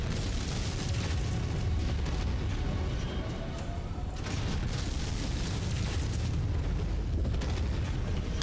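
Heavy AC-20 autocannon fire in MechWarrior 5 during a battle among giant mechs, a loud, dense rumble of booming impacts and explosions that fills the whole stretch without a break.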